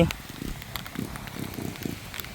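Rain patters steadily on a surface outdoors during a rice harvest in a field, a soft crackling hiss with faint voices mixed in.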